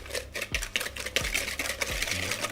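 Sugar and egg yolk get whisked together in a bowl for a Halloween dessert kit: quick, close, rhythmic tapping and scraping strokes that come in short repeated bursts, with no voices.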